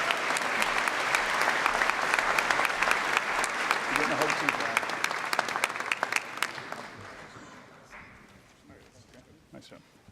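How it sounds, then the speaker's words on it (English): Audience applause for an honors award recipient at a university honors convocation in Dubuque, steady dense clapping that fades out toward the end, with a voice over it. "How about a round of applause for Mr."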